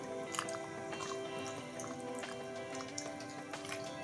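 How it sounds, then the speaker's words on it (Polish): Coconut milk pours into a zucchini and chicken cream soup, giving a steady wet dribbling and splashing with small drips and squishy liquid sounds that run throughout, close and fairly quiet. "I teraz wleję mleczko kokosowe dodam serek i wymieszam."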